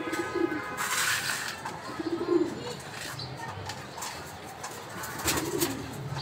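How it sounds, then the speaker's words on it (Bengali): A pair of racer pigeons nesting with eggs give soft, low cooing calls in short bursts, fairly close, with faint background rustle and distant noise. "দেখতে পাচ্ছেন এক জোড়া পাখি কবুতর, ডিম নিয়ে আছে।"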